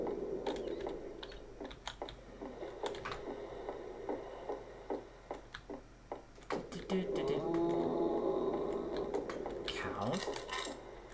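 A cow in Half-Life 2 gives a drawn-out, wavering moo partway through, mixed in with rapid keyboard typing clicks and a low in-game hum, with a voice talking faintly.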